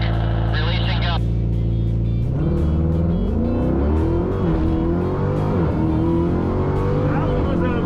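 A Dodge Demon launches hard off the line at a drag strip, the engine revving high then surging loudly through acceleration with rising and shifting pitch, close and continuous, with a voice over the engine.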